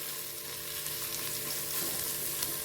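Dried coconut stir-fried in a pan gives off a steady, even sizzle with soft scraping of the stirring, continuous and close throughout, with no voices.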